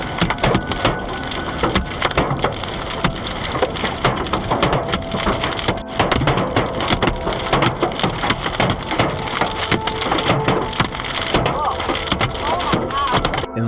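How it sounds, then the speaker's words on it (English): Heavy thunderstorm rain pounds hard and continuously on a vehicle pulled over in Wheat Ridge, Colorado, a loud, dense drumming and crackling that runs throughout, with a voice talking over it. "Major storm clouds gather overhead in Wheat Ridge,"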